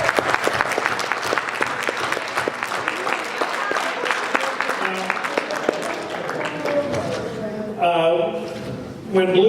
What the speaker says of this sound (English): You folks deserve a round of applause for your efforts